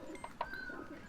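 Soft bird coos in the Oddworld New 'n' Tasty game, two quick calls close together, faint over a quiet ambient hum.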